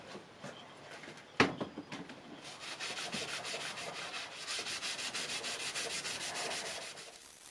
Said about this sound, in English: on the main surfaces using steel wire brush and some Scotch Brite with